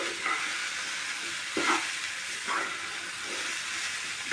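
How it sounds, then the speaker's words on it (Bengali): Potato, onion and mushroom fry together in a pan with a soft, steady hiss, punctuated by a few brief stirring scrapes. "আলু, পেঁয়াজ আর মাশরুম এগুলো যে ওর মধ্যে একসাথে এবারে ফ্রাই হচ্ছে।"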